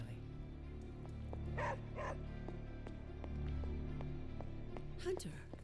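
In the video game Marvel's Midnight Suns, a dog gives a few short yips and whimpers, quiet and spaced apart, over a steady low hum and faint game sounds.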